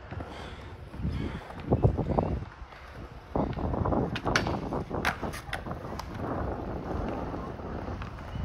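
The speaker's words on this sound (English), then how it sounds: "There's a lot of wind here." Strong wind gusts buffet the microphone at an outdoor skatepark, a rough rumbling roar rising and falling throughout, with faint clattering and brief voices mixed in.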